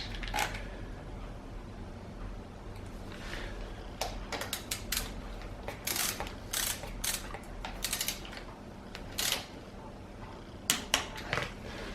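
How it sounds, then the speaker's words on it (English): Pinch bolts being tightened on the front wheel axle of a KTM dirt bike, producing a series of short metallic ratcheting clicks in irregular bursts, close and fairly quiet over a low background hum. "And then you can tighten the pinch bolts on this side."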